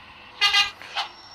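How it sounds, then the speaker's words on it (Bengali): A bus horn in a Bangladesh bus driving video game sounds two bright honks, a longer blast then a short one, loud and close with no talk. "অনেক সুন্দর সুন্দর হর্ন আছে।"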